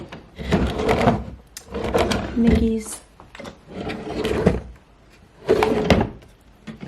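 A bathroom drawer under the sink slides open and shut with wooden thumps and a scraping glide, close by, mixed with talking throughout.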